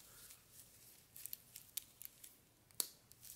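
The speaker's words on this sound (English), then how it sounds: "Get some of those stickers off." Stickers being peeled off a new Todd Snyder Timex watch and its solid bracelet during unboxing, heard as faint, close tearing and crinkling ticks scattered through a quiet room, with a few sharper snaps.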